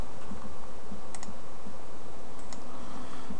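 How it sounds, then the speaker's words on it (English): A computer keyboard in a Backtrack 5 terminal session, loud dense clicking of keys with a few sharper taps standing out, steady and close without speech. "Go ahead and hit enter."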